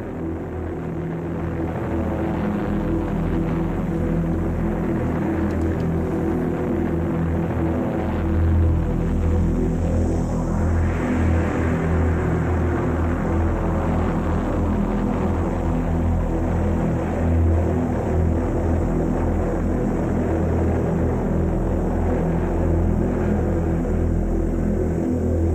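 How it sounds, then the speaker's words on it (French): Propeller bombers at the Battle of Midway take off from a runway, a loud continuous engine drone and hum that swells slightly as it carries on for the whole stretch. "Alors que les bombardiers s'élancent sur la piste de décollage"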